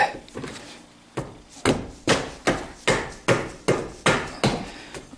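A dead blow hammer strikes metal repeatedly on a 1976 Corvette power steering bracket, about a dozen dull, heavy blows landing at a steady pace, each thud ringing briefly before the next.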